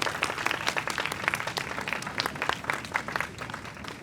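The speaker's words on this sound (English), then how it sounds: "Give yourselves a round of applause." A crowd gathered at an outdoor rally supporting public schools claps for itself, scattered individual hand claps layered into a lively, fluctuating round of applause that stays fairly close and unbroken throughout.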